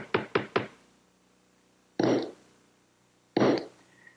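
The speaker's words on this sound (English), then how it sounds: "I'm just going to take these tacks and put one in each corner." Tacks being hammered into the corners of a wooden panel in a workshop: three quick sharp taps in a row, then two single heavier blows spaced apart, close and distinct against a quiet background.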